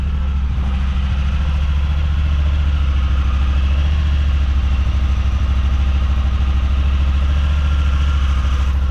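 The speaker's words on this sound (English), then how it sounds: "The motor sounds nice and quiet." A crash-damaged side-by-side UTV bought at auction, its motor showing 54 hours, idles steadily and loudly from start to finish with an even, low rumbling throb and no voices.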